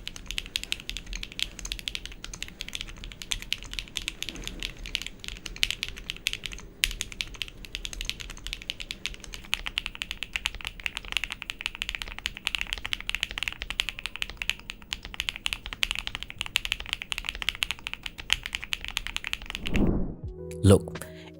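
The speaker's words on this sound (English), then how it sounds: "let's compare the sound of Monsgeek M1 V5 foamless and with foam" Steady, dense mechanical keyboard typing on a Monsgeek M1 V5, heard both foamless and with foam, with fast clacky keystrokes running continuously and close up, ending with a brief louder knock near the end.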